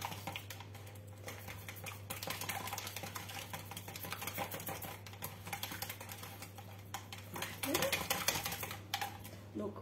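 A potato gratin mixture with lardons is stirred in a bowl, with soft rapid clicking and tapping of a utensil against the bowl, fairly faint and steady, growing a bit louder near the end.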